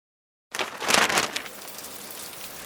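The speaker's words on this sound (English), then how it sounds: "The rain was coming down in droves" Heavy rain begins abruptly after half a second of silence, surging into a loud, dense hiss that peaks briefly and then settles into a steady, softer downpour.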